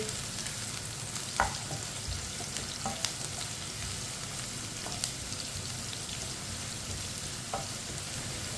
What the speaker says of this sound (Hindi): एक बरीक कटा हुआ प्याज डाल लेंगे, मिक्स कर लेंगे। प्याज को हल्का सा ब्राउन कर लेंगे।